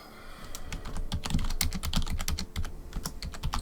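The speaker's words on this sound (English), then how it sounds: "the volume level of my mouse and keyboard" Rapid, steady clatter of computer keyboard keys and mouse clicks from close-up gameplay of RuneScape 3 Slayer at night, with dense irregular taps running throughout and no voices.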